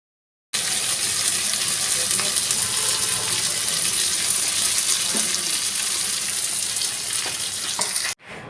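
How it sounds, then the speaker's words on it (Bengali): Very hot water poured onto mutton frying with potatoes in a pot, a loud, continuous rushing hiss and sizzle that starts abruptly and holds steady for several seconds before cutting off. "এইবারে একেবারে গনগনে গরম জল ঢেলে দিলাম।"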